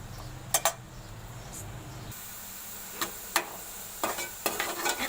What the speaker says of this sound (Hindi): बस इतना प्याज मुझे गोल्डन करना है।